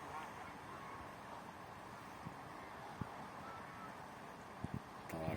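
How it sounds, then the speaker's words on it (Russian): Geese honk faintly in the distance near a rural pond, a few scattered calls over a low steady outdoor hum. "А вон гуси у него."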